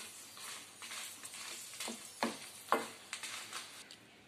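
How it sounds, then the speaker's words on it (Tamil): Red chillies fry in a little oil for bisibele bath spice powder, giving a quiet, steady sizzle with scattered soft crackles and a few sharper pops near the end. "மிளகாய் வறுக்கும் போது மட்டும் கொஞ்சம் எண்ணெய் ஊற்றிக்கோங்க"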